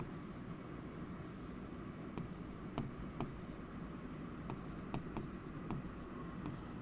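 Chalk or marker writing digits on a classroom board, faint scattered taps and short scratches at an uneven rhythm over a steady background hiss.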